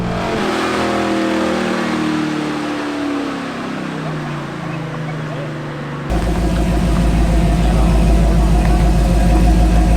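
A Ford Mustang with a swapped 2JZ engine rumbles and revs while driving on the street, with shifting pitch, then a louder, rougher drone takes over; a voice talks over it.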